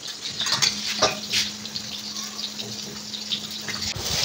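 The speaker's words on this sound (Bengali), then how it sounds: "টমেটোটা প্রথমে ছেড়ে দিয়েছে, তেল গরম হয়ে গেছে, জিরে ফোড়ন দিয়েছে" Tomato and cumin tempering fry in hot oil with a continuous bright sizzle, crackling bursts and occasional stirring clinks, alone without voices.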